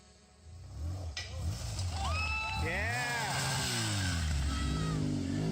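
A BMW trials motorcycle engine revs during a hill-climb section at an off-road riding challenge, rising and falling in pitch as the rider works the bike around, loud and steady with voices talking over it.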